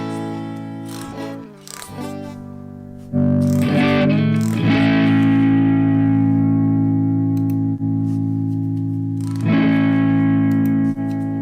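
An electric guitar played through a Nembrini Audio BST100 overdrive pedal rings out with sustained distorted chords, loud and close, with a brief quieter gap before the strummed chords return and hold.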